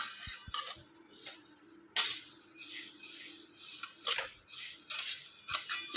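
Spice mixture for village-style yesur masala roasting dry in a pan, stirred with a utensil that scrapes and clinks against the metal in irregular bursts, close and fairly quiet with short pauses.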